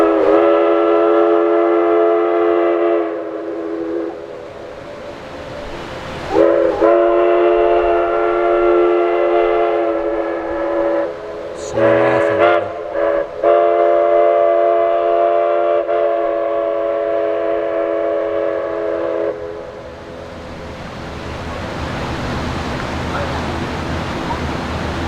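A railroad engine at Silver Plume idles with a loud, steady tonal hum and horn-like drone, pausing briefly twice before fading out near the end, with a few voices in the background.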